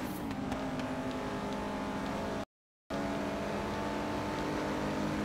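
Subaru WRX rally edition engine in a Hot Wheels racing game, a steady droning hum with no break in pitch, briefly cutting to silence midway before resuming at the same level.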